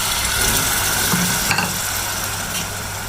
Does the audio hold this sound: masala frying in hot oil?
yes